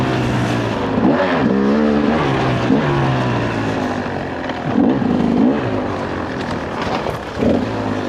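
A four-stroke motorcycle engine revs hard on a track, loud and close, rising and falling through repeated gear changes with sweeping pitch climbs and brief dips.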